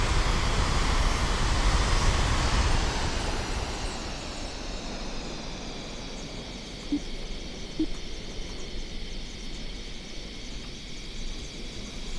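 A plane's engine drones steadily in flight in Kerbal Space Program 2 on a single lap around the track. It is louder at first, then settles into a softer continuous hum with a faint high whine. No one talks.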